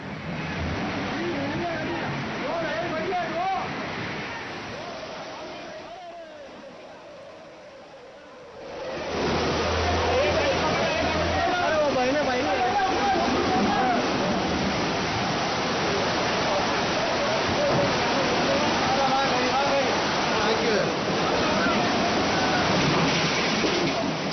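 Floodwater from heavy monsoon rain rushing through a town, a loud continuous roaring wash that briefly drops away before returning even fuller, with faint voices mixed in.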